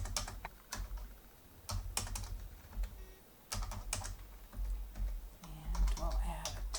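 Keys on a computer keyboard clatter in irregular bursts of quick taps, close and fairly crisp, while names and sales figures are entered into a Microsoft Excel spreadsheet, with low background rumble between the bursts.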